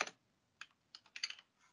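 A computer keyboard clatters in a few short bursts of close, crisp keystrokes with brief pauses between them, quiet and alone.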